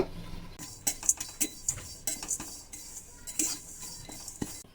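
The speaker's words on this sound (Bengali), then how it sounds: "এক চামচ ছোলার ডাল আর এক চামচ দিচ্ছি তিল নাড়াচাড়া করে হালকা ভেজে নেব" Chana dal and sesame seeds dry-roast in a pan while being stirred, giving light scraping and clinking taps in an irregular rhythm, close by and fairly quiet.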